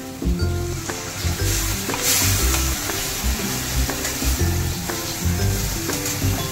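Mustard paste water is stirred into a banana stem chhechki frying in a pan, giving a loud, continuous sizzle with rhythmic stirring scrapes throughout.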